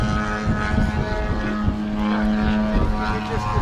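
Aircraft engine noise at a Popham airfield flightline display, a steady loud roar with a strong propeller hum that holds throughout the short stretch, swelling slightly as the sharp, high-powered aircraft passes.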